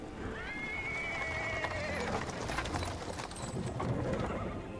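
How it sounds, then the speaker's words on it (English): Horse-drawn cart with a small horse, its hooves clip-clopping and wheels rolling over paving stones, accompanied by a neigh at the start, loud and close with a busy rumbling background. "He's interrupted by the sounds of wheels rolling on the paving stones. A cart drawn by a sad little horse appears from around the corner."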